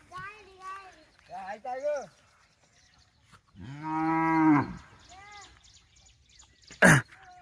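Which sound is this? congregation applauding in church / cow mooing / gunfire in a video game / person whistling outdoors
cow mooing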